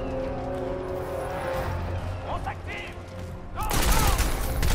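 Gunfire bursts in the shooter video game Crysis 2, clattering shots and impacts that grow denser and louder toward the end over a game soundscape with a voice talking.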